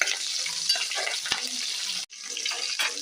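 A pan of onions and curry leaves fries with a continuous close sizzle. A spoon stirs through it, a short sharp knock sounds near the middle, and a brief gap falls near the end before the sizzling resumes.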